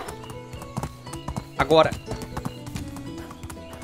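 Horse hooves clip-clopping in a steady rhythm while riding in the medieval game Medieval Dynasty, with a brief whinny midway and someone talking over it throughout.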